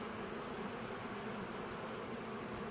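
Honeybees buzz densely around a hive while pollen is being collected, a steady, close swarm drone that holds at an even level throughout.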